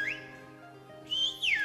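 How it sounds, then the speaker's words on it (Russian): A whistled language, speech carried entirely by whistling, heard as two sharp rising-and-falling whistle phrases, one brief at the start and a longer, louder one near the end, over a quiet steady background. "Есть такие интересные языки, например, как язык антия, то есть это язык свиста."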